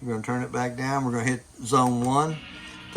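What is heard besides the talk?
None of the usual background noises is heard.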